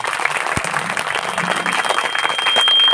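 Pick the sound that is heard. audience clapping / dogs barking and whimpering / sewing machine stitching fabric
audience clapping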